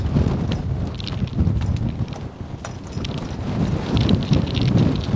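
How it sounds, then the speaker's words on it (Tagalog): Strong gusts buffet the microphone in heavy, uneven rumbles while fishing outdoors, with bursts of louder wind throughout and no voices. "Malakas ang hangin."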